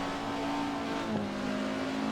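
The Ford Escort RS1600's BDA engine in the Assetto Corsa racing game drones at a steady pitch, then stumbles and bogs down briefly midway before continuing at an even, moderate level, with no voices.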